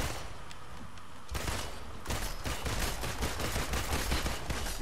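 Rapid bursts of gunfire in the Avengers video game, starting quiet, then a sharp jump into sustained automatic fire that rattles on as a dense fusillade.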